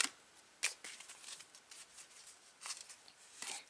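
Oracle cards being shuffled by hand in a quiet room, faint papery riffles and soft flicks coming in short, uneven bursts.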